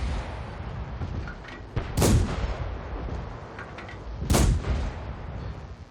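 Two heavy, booming tank cannon shots in the video game World of Tanks, roughly two seconds apart, each followed by a rumbling tail over a constant engine drone.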